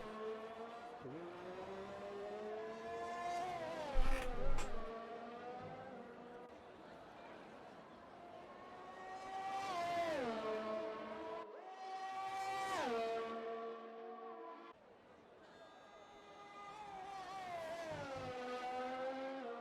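A Formula 1 car engine in F1 2020 screams through a fast lap at the Italian Grand Prix circuit, rising and falling in pitch with gear shifts and braking, fairly loud and alone.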